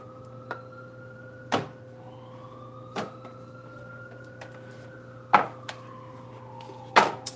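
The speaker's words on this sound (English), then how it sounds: "You hear the sirens?" A faint, distant siren wails slowly up and down at a steady pitch, with a few sharp knocks and clicks nearby.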